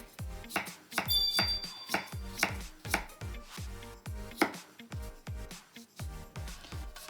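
Garlic is minced with a knife on a cutting board in rapid, irregular chops, crisp and close, with a bright ping near the start and no talk.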